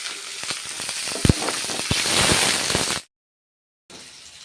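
A steady sizzle of small onions sautéing in a hot pan, with crackles and pops over the hiss, then a brief drop to silence before it resumes.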